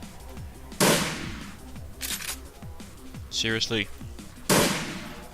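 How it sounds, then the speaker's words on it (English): Shotgun blasts in the Shadowrun Returns video game, two sharp loud bursts a few seconds apart, with game effects and a brief spoken exclamation between them. "You rip out your shotgun and go to town."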